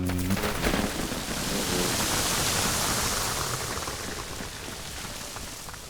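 Rain falling in the Vintage Story survival game, a dense, steady hiss of downpour that fills the scene loudly and evenly, easing slightly toward the end.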